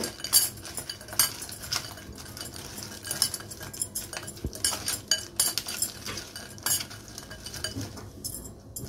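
Raw crab pieces are hand-mixed with salt, turmeric and chili powder in a bowl, making a steady stream of close, wet clicks and clattering shells with a faint continuous rustle and no speech.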